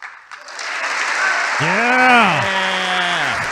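Sustained applause fills the chamber during a State of the Union address, steady and crowd-wide, with a voice cheering and talking over it.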